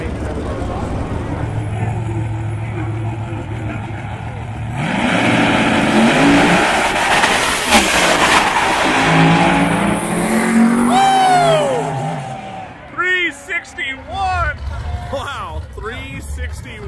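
Race cars at a track event roar past, engines swelling and fading as they pass by, heard from a nearby viewing area with people talking throughout.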